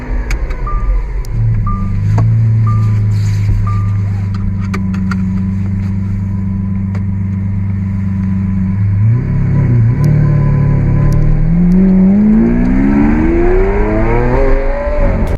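A Lamborghini Aventador SV Roadster's 6.5-liter V12 in the Need for Speed racing game, loud and close: a steady low idle drone and short blips, then a sustained rising rev climbing in pitch as it accelerates.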